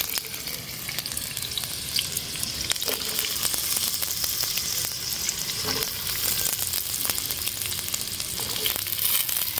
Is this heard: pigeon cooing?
no